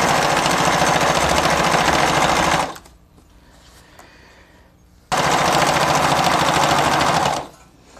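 A sewing machine stitches the hem of a pair of trousers in two loud, steady bursts of rapid running, with a quiet pause between them and the motor stopping at the end.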